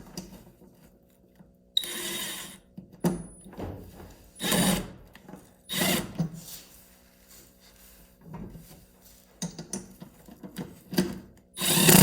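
A power driver runs screws into Ryobi battery electric snowblower parts in several short bursts, each a few seconds long, separated by pauses and light handling noise, close and fairly loud.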